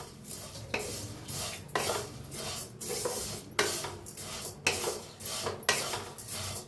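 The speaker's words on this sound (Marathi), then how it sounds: "आता मिक्स करून भाजून घेऊया।" Ingredients are stirred and roasted in a pan, a spatula scraping against the metal in regular sweeping strokes about once a second over a faint sizzle, close and clear with no talking.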